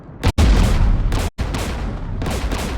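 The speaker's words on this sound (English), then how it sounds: "We're taking fire." Heavy gunfire from Mass Effect 3 during a firefight near Geth anti-aircraft guns: loud sustained bursts broken by two brief gaps, then continuing rattling shots.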